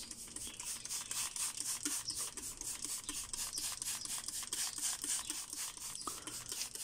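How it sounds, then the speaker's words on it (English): A small handheld spray bottle mists water onto a ficus bonsai planted root-over-rock in a pot, making rapid repeated trigger squirts and hissing sprays in a close, steady rhythm with no talking. "I'm watering with this little spray bottle"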